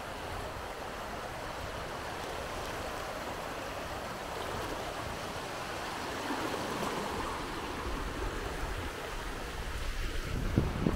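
Waves at high tide on a beach in Brewster, Cape Cod, wash ashore in a continuous broad rushing hiss, with a steady wash of surf and wind rising slightly toward the end.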